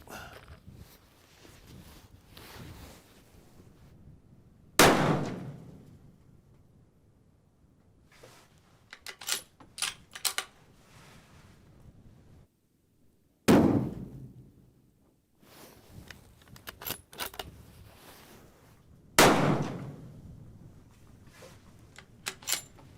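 Rifle shots fired downrange at paper targets with Hornady Outfitter ammunition on a windy day, three loud sharp cracks spaced several seconds apart, each with a short decaying tail, between quieter handling clicks and rustling.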